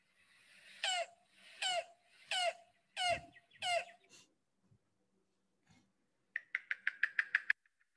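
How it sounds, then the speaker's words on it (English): Yellow-billed cuckoo calling in a spring recording, a series of five hollow, clucking notes spaced about a second apart, a pause, then a fast run of sharp knocking notes, clear and fairly close against quiet. "one of my favorites, the yellow-billed cuckoo"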